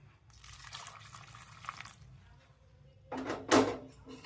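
Water poured into fermented dhokla batter makes a quiet trickle, followed near the end by a brief, louder splashing pour.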